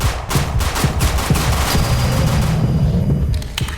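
Sustained rapid gunfire in the Roblox survival game 7 Days To Live as enemies are shot, a dense string of loud close shots throughout with a few heavier booms.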